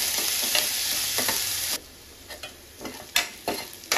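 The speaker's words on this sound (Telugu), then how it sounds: "అలాగే కట్ చేసిన మీడియం సైజ్ ఉల్లిపాయ ఒకటి, పెద్ద పీస్. కొంచెం ఫ్రై అవ్వాలి" Medium-sized onion cut into large pieces frying in a pan, a steady bright sizzle broken by scraping stirs, then quieter sizzling with intermittent spatula knocks and stirs, close and alone without talk.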